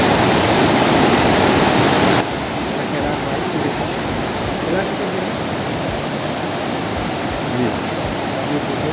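Rushing water of the Bhagirathi river on the road to Badrinath, a steady broadband roar that drops slightly after the first couple of seconds, with a brief spoken word over it.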